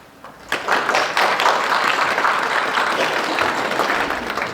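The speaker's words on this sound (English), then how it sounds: "Let us applaud the radiant court of Solaria." Audience applause for the court of Solaria at an East Peoria madrigal performance, a dense, steady clapping that swells in after a quiet start and holds at full strength to the end.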